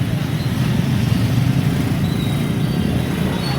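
Congested traffic at Mankapur in Uttar Pradesh near the railway crossing, with vehicles packed together: a continuous low-pitched engine rumble of cars and motorbikes, steady and fairly close, at the same level from start to finish.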